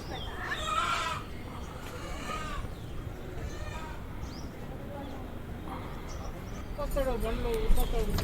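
Chickens picked up in a village near Medaram during the Jatara cluck and squawk in short bursts beneath steady talking and background bustle.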